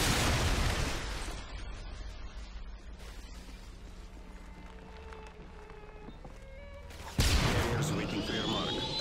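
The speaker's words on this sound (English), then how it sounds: "Missile ready for launch. Friendly predator missile inbound." A predator missile explodes in Modern Warfare 2 on the Estate map: a loud, broadband blast opens, quieter game ambience follows, then a second heavy burst of rumble and debris near the end.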